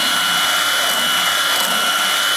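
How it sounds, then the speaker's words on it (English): A power drill fitted with a round file sharpens a chainsaw chain outdoors during tree cutting, giving a continuous high-pitched whining buzz held at a steady loud level for the whole moment. "I'm sharpening a chainsaw blade with the drill and the file on the end"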